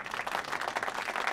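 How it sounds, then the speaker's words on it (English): An audience gives a warm round of applause to welcome a guest speaker at an orientation session: dense, steady hand clapping from many people, continuous and even, with no voices over it. "Let us welcome him with a warm round of applause."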